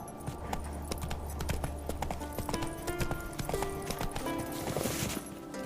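Horse hooves gallop in The Witcher 3: Wild Hunt, a steady, fast clip-clop rhythm that runs throughout with a brief whinny, set against game ambience and a faint music bed.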